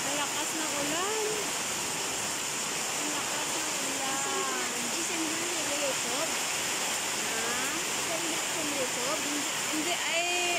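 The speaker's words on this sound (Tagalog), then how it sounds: "Ayan, palakas ng palakas yung ulan." Steady, dense rush of heavy typhoon rain pouring down, a broad constant hiss with birds or voices chirping faintly through it.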